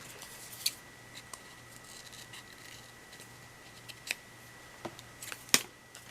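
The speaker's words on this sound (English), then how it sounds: "I think I just need to cut this little part of the top of this tree." Scissors snip a paper sticker for a planner in a few faint, sparse cuts against quiet background hiss.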